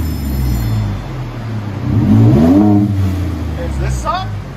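A 2016 Ford F-150 with a 3.5L EcoBoost V6 and dual Borla Pro XS exhaust revs once, rising to a deep loud swell midway and then falling back to idle, with people talking nearby.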